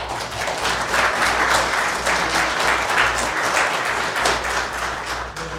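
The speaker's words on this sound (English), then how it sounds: "One more round of applause." A live audience gives a round of applause at a museum-related event, dense, loud clapping that swells and holds steady, then begins to thin near the end.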